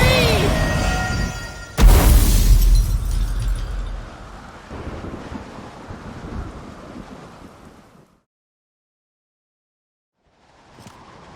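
Storm wind in The Witcher 3 video game roars loudly with a sudden heavy gust like a thunderclap, then rushes on and fades to near silence before a faint rise at the end.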